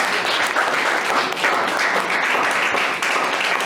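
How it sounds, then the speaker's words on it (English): A school audience applauds continuously, a dense wash of many hands clapping that holds steady throughout. "please clap for them. It's okay, you can clap."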